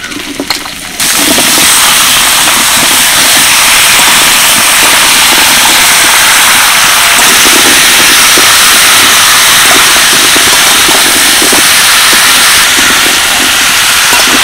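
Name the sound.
pumpkin, sweet potato and potato frying in oil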